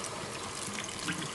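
Cold water runs steadily from a tap into a sink, a soft continuous trickle and splash that stays even throughout.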